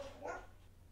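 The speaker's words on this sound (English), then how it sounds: "I'm sorry if you hear my dog barking because she doesn't know when to be quiet." A single short dog bark sounds at a moderate distance, quiet and brief, in an indoor setting without talk.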